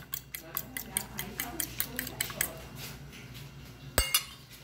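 A metal spoon scoops cornmeal (fubá) for an omelette, giving a quick series of light, close clicks and scrapes against a dish, ending in one sharper clink.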